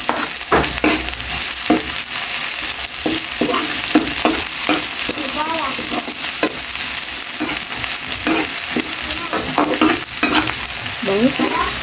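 Loud, close sizzling of garlic, onion and ginger frying for escabeche, with repeated scraping stirs of a utensil against the pan throughout.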